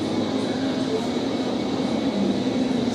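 An Amtrak train arriving at Newark station produces a steady, moderately faint low rumble and hum that continues without a break.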